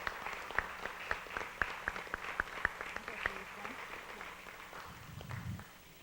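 A small audience at a nuclear disarmament gathering claps in honor of a man named Joel, a fairly quiet, room-filling patter with a few sharp, distinct claps near the mic, thinning out and fading toward the end.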